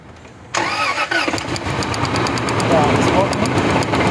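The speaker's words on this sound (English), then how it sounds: "Start the car." A Range Rover with a misfiring cylinder cranks and fires up, then settles into a loud, rough idle that runs steadily close by, with a voice speaking briefly over it.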